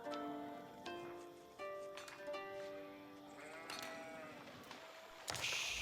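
Sheep in the Age of Empires video game bleat repeatedly, several overlapping wavering calls one after another, clear and fairly close, with faint game ambience beneath and no talking.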